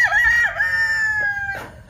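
Close, loud crow from a rooster, one long drawn-out call that rises, holds, and trails off with a brief cluck at the end.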